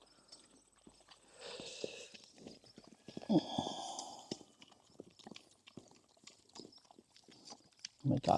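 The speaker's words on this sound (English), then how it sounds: "I just love the sounds they make while they're, don't eat my camera, while they're chewing" Farm animals chewing and munching food close by, giving soft crunching and mouthing noises, with occasional snorts, shuffling steps and a louder burst near the end.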